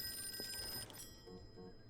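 A telephone rings in the video game Call of Cthulhu, a bright electronic trill lasting about a second before stopping, fairly faint against a quiet room.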